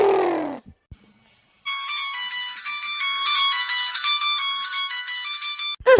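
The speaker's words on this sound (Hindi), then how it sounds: "क्या का फोन बाजे लागा भाई," A bright electronic ringtone plays steadily for several seconds, a repeating melodic pattern, after a brief moment of quiet and a short vocal sound at the start.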